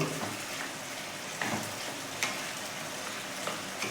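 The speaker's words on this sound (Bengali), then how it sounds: "একটু ঘি ছড়িয়ে দিচ্ছি ভালো করে এটা আমি মিশিয়ে নেব" Ghee stirred into pumpkin ghonto with potatoes in a pan, giving a soft steady sizzle with a few scraping stir strokes, fairly quiet and close, no talking.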